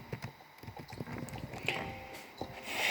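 Horse hooves clip-clopping at close range in an uneven walking rhythm, with faint background noise and a brief snort or whinny-like sound.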